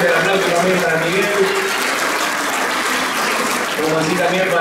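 Loud, sustained applause fills a room at a 50th-anniversary tribute to the 1974 championship team as the family of a player named Miguel is honored, the clapping dense and continuous with voices mixed in beneath it.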